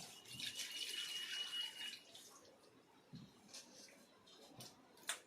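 Water runs and splashes into a bowl of flour dough as it is washed, a broad hiss for the first two seconds, then softer wet dabs and drips, close and with no talk.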